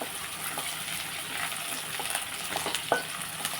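Lentils frying in oil for a tempering in masala upma, a dense close sizzle with stirring scrapes and light clinks over a few seconds.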